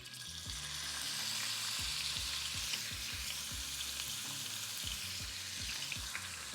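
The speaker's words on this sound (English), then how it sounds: "so I'm going to add my meat to the skillet" Steak meat mixed with Worcestershire sauce sizzles in a skillet, a bright steady frying hiss with a rhythmic low thumping and clatter repeating throughout, close and fairly loud with no talk.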